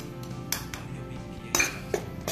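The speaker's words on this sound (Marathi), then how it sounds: "बेसन आता याच्यामध्ये कढईमध्ये घालून छान असं परतून घ्यायचंय आपल्याला" Gram flour (besan) being stirred and roasted in a kadhai, with a few sharp metallic clinks and scrapes standing out over a low background murmur.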